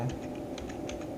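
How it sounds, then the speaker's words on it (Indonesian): Quick, light keystrokes on a computer keyboard as a command is typed, a short burst of several close clicks in quick succession. "Kemudian kita ketikkan perintah"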